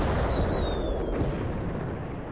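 A grenade explodes in the video game AVA with a loud, close boom that rolls into a long rumbling decay lasting a couple of seconds.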